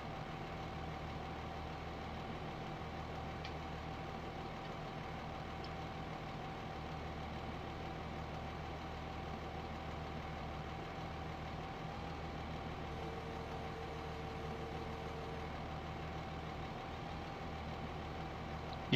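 Tractor engine idling in a farming simulator, a steady low drone with a constant hum, held evenly at moderate level with no speech.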